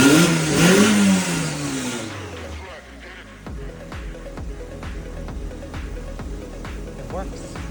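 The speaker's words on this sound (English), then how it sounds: "here's the video of it starting up" A Mazda Miata engine cranks and catches, then settles into a rough rhythmic idle with repeated throttle blips, heard close up with a voice speaking over the opening seconds.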